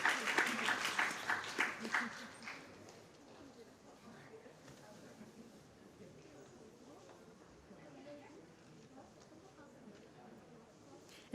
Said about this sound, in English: A round of applause for our lucky couple.